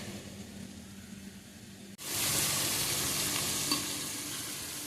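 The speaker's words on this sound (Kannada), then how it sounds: "ನೋಡಿ ಚೆನ್ನಾಗಿ ಫ್ರೈ ಆಗಿದೆ" Chicken sukka masala sizzles loudly in a hot pan, a quiet low simmer bursting into a dense, steady hiss as ingredients hit the oil, close up with no talking.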